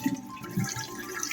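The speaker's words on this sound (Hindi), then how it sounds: "सारा पानी निकाल दूँ।" Hot water draining off boiled, swollen rice in a kitchen: a short, close-up gush and splatter of liquid with uneven bursts, lasting only a moment.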